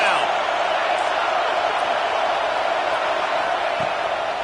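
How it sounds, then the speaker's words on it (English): A stadium crowd roaring in the 2K26 video game, a steady, loud wall of cheering noise with no breaks, swelling evenly throughout. "Decibels rising as the crowd gets behind this defense on 3rd down."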